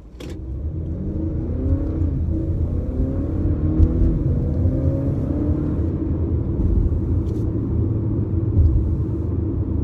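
A 2019 Acura RDX Platinum Elite engine pulls steadily under acceleration while driving at highway speed, a loud, rising, throaty rumble heard close from inside the cabin with no talking.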